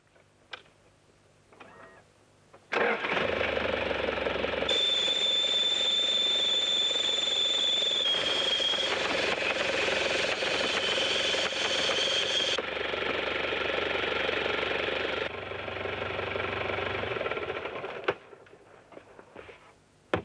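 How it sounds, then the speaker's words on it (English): Four-wheel-drive vehicle bogged in outback sand idles steadily while its exhaust inflates an air jack bag beneath it; a loud, continuous engine drone with a whistling hiss, running alone for about fifteen seconds before dropping away. "it's just a matter of using the exhaust gases to lift the vehicle out of the sand bog. So I just idle it."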